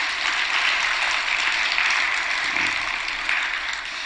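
A church youth group applauds together, a broad wash of many hands that stays steady and slightly distant for about four seconds without speech.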